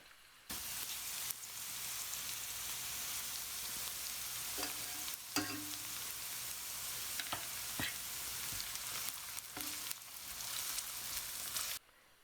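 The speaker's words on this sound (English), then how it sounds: "So these onions will saute for a minute" Onions sautéing in a pan for Cajun smothered potatoes, a steady, even sizzle throughout, broken by a few sharp utensil taps and scrapes, close by with no talking.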